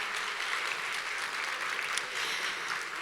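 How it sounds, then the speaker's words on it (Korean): A steady wash of audience applause fills the room after a science-and-art festival fashion show, dense and continuous throughout with no voices standing out. "여러분 다시 한번 박수 보내주시기 바랍니다."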